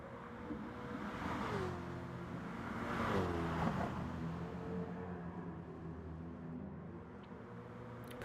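BMW racing car engine in a racing video game, a continuous loud droning whine that rises and falls through gear changes, with a broad swell of revving midway and no talk.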